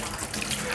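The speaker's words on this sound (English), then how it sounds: "Alright, wash the hands." Hands being washed under a running kitchen tap while roasting lamb, a steady close splashing gush of water throughout the short moment, with no talking.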